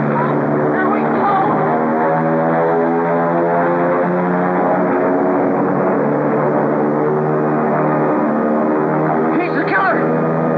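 A steady, droning propeller engine hums loudly and continuously throughout, with faint voices briefly audible under the noise.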